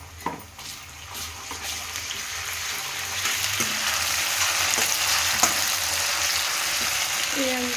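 Ginger and garlic frying in a pan as a keema filling for stuffed capsicum is cooked: a steady, close hiss of sizzling oil runs throughout, with a few light clinks and scrapes, and no one speaks.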